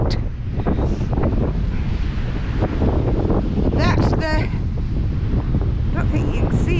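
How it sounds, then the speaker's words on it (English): Blustery seaside wind buffets the microphone with constant loud rumbling roar, big waves nearby, while a person talks under the gusts. "it is quite blustery out there"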